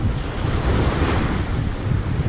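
Sea waves surge and wash below rocks in a continuous roar, mixed with strong wind buffeting close by.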